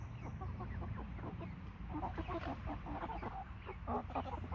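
Chickens cluck and chatter in a farm flock of roosters and hens, a steady overlapping racket of close and distant calls with no talk.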